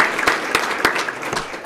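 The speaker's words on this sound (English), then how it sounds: "let's give them a round of applause for being here." A small audience claps at a police swearing-in ceremony in Sarasota; the claps are scattered and distinct, with sharp individual hand strikes over a light patter rather than a full roar.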